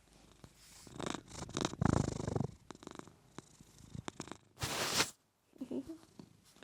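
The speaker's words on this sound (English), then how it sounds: "And here's my cat." A domestic cat purrs up close in a quiet room, a soft rumbling purr that rises and fades across several seconds, with brief rustles and a short burst of handling noise.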